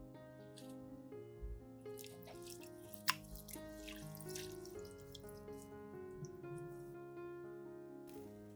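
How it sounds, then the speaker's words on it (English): Clean tap water runs steadily into a kitchen sink while fresh herbs such as green onion and parsley are rinsed, a soft continuous splashing with faint drips, quiet and close, and soft music playing underneath. "Rinse again with clean water and let them drain completely."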